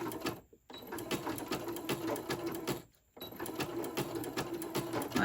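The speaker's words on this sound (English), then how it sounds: "I'm changing my machine over to a zigzag, and I'm going to zigzag going across" A domestic sewing machine zigzag-stitching across a fabric key fob, a fast rattling stitch that runs steadily up close, broken by two brief pauses before starting again.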